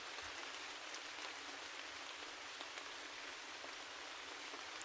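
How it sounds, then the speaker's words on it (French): Soft, steady rain falls with drops hitting the ground, making a faint, even hiss that stays level and unbroken throughout. "Visualisez les gouttes de pluie, une à une, qui tombent doucement du ciel, qui éclaboussent légèrement en touchant le sol."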